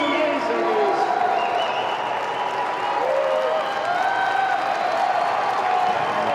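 A large strongman competition crowd cheers and applauds a competitor, sustained dense clapping and shouting at steady loudness with a voice talking over it.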